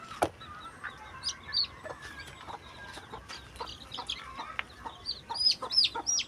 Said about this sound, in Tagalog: Dalawa pong manok ang may sisiw na magkatulad po ang kulay